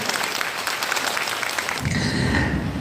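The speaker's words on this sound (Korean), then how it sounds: "임정희 센터장님을 뜨거운 박수로 모셔보겠습니다" Audience clapping to welcome a senior job center director onto the stage at a community center training session, a dense spread of applause that swells near the end alongside a low rumble and a sustained tone.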